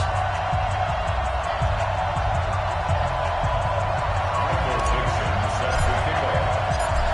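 A stadium crowd in an EA Sports football video game, Philadelphia Eagles against Toronto Huskies, keeps up a steady, dense roar of cheering throughout.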